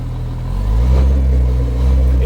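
Kawasaki Teryx H2 UTV engine running steadily in low gear, a loud, close, continuous low rumble that rises slightly as the vehicle pulls forward, with a person talking over it.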